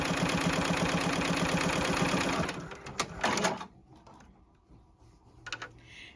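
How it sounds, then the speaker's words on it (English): A JUKI embroidery machine sewing yellow thread on an in-the-hoop twisted log cabin quilt block, fast rhythmic mechanical stitching for about two and a half seconds, then stopping, followed by a few clicks and handling noises. "And now it will sew in yellow to hold that down."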